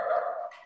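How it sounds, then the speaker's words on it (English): A dog barks once, a short, fairly close yelp with a tonal edge that trails off within a second. "the dogs are barking all over the place"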